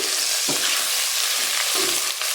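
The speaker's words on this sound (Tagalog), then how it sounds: "Tapos po yan, haluin po natin." Steady loud sizzling of chicken tinola frying in a pot, with two brief scraping stirs of a utensil partway through.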